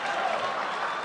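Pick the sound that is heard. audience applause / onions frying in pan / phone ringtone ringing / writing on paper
audience applause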